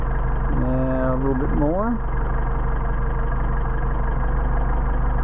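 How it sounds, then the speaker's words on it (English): A car engine fitted with Solex 44PHH carburetors runs with a steady, loud idle drone while someone speaks over it, and the engine speed rises slightly partway through. "You hear the RPM increase."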